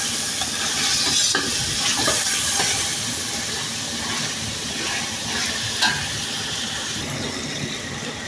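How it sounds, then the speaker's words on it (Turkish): Steady, loud sizzling of julienned chicken strips frying in a hot pan, a dense hiss with occasional stirring scrapes, no voices. "jülyen doğranmış tavuklarımızı güzelce kavuruyoruz"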